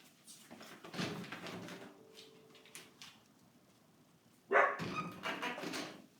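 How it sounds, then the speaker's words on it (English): A pet dog named Mac barks once loudly indoors at home, following a stretch of soft room noise and faint movement, with quieter rustling after the bark. "there's my dog saying hi. Mac."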